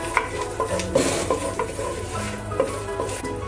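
Whole spices (cinnamon, cloves, cardamom, bay leaf) frying in sunflower oil for paneer pulao, stirred with a utensil scraping the pan in repeated strokes over a steady close sizzle, no talking.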